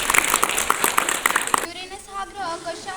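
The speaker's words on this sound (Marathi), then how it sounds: "टाळ्या वाजवा." Classroom students clap in a brief rhythmic burst for about a second and a half, then the clapping cuts off and speech follows.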